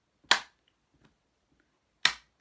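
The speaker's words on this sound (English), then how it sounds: "We could try a bit of clapping your hands." Two sharp, isolated hand claps, spaced about two seconds apart, sound close and loud against near silence, each a bright crack with a quick decay.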